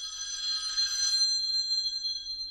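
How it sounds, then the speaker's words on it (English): Unplugged telephone ringing with a bright, bell-like electronic trill for about a second, then a single sustained tone lingers and slowly fades, close and clear with no talk. "a dead phone began to ring"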